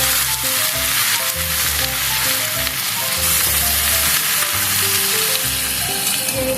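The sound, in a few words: ground spice paste stirred and fried with vegetables for shukto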